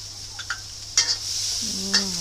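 Onion and carrot stir-frying in hot oil in a wok, a steady close sizzle with a few soft stirring scrapes and light clinks of the utensil against the pan.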